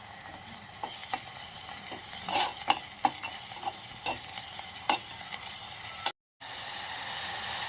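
Onions with ginger-garlic paste fry in oil for a phool makhani curry, giving a steady sizzle broken by occasional stirring scrapes and taps, close and fairly quiet, with a brief cut near the end.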